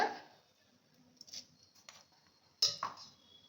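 Mustard seeds spluttering in hot oil, a handful of scattered small pops and crackles over near silence, with one sharper burst of popping late on.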